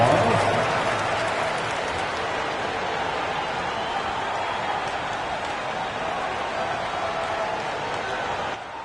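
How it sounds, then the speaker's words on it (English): A crowd applauds steadily in the basketball video game NBA 2K25, a dense wash of clapping and cheering noise that holds at an even level throughout. "A big round of applause."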